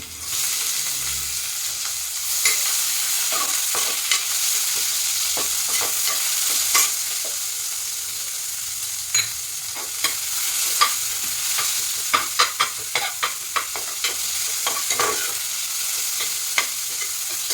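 A large onion, sliced into long thin strips, frying in ghee for ghee rice, giving a loud, steady sizzle broken by frequent stirring clatters and scrapes of a spoon in the pan.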